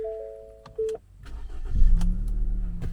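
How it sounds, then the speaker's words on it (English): A car engine cranks and catches after a few electronic chimes, then settles into a steady low idle, loud and close with no talking. "Let's go ahead and start this car."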